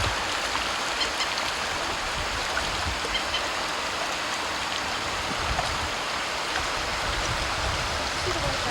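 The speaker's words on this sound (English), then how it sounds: "This is Crooked Creek at Valdez. We're watching the salmon come up to spawn." Crooked Creek in Valdez, Alaska rushes steadily during salmon spawning, a constant broadband babble of flowing water close by with no pauses.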